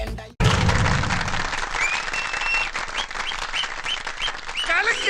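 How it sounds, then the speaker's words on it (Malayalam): Audience applause at a family New Year's Eve party, a loud sustained burst of clapping that starts abruptly after a brief silence, with crowd noise and a few whistles mixed in. "കയ്യടി മുഴുവൻ തീർക്കണ്ട"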